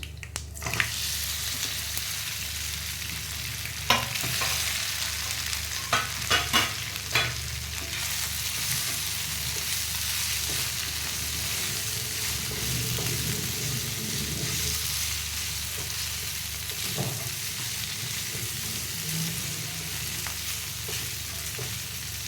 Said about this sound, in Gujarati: હવે આને નીચેથી થોડાક લાલ થાય ત્યાં સુધી આપણે એને ફ્રાય કરવાના